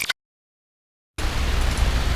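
A steady, broad rumbling hiss with heavy low-end roar from an electric fan recorded as a bass sound without EQ, starting abruptly after a brief silence and continuing without a break.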